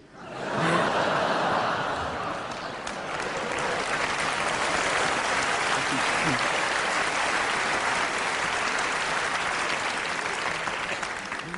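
A large comedy-festival audience in Montreux breaks into loud, sustained applause that builds within the first second and holds steady to the end, with scattered laughter mixed into the clapping.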